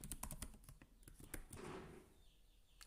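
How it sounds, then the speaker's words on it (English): Password typed on a computer keyboard: a quick run of light, close key clicks over about a second and a half, then quiet. "Let me type the password."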